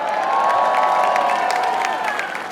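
A large crowd cheers and shouts at Nathan's Hot Dog Eating Contest at Coney Island, New York City, in 2024, a loud sustained roar with whoops across the whole stretch.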